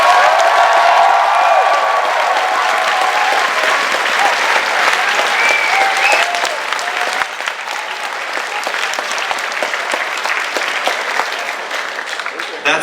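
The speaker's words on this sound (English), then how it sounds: "And one more gigantic round of applause. Stomp your feet, clap your hands for the Hilton and a really great venue." A large convention crowd at a Hilton hotel venue breaks into loud, sustained applause with stomping feet, the dense clapping slowly thinning toward the end.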